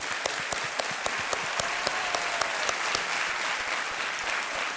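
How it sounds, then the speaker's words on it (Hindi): Loud, dense applause from a studio audience on the Hindi TV quiz show Kaun Banega Crorepati, steady clapping with sharp individual claps standing out, continuing throughout without talk. "एक बार फिर तालियों के साथ इनका स्वागत।"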